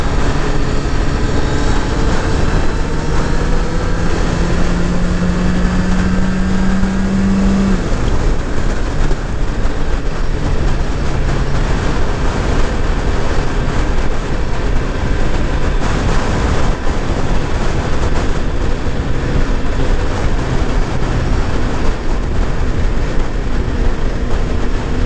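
A 2018 Suzuki Hayabusa motorcycle on a ride, heard as a loud, steady engine and wind roar with a rising tone near the start that holds for the whole stretch.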